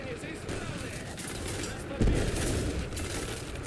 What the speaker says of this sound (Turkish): Birisi arkadan vuruyor ama tabi mal gibi vuruyor yani